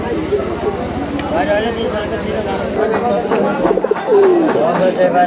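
Pigeons coo and flutter at a busy pigeon market in Tangail, Bangladesh, their soft calls mixed with people talking close by.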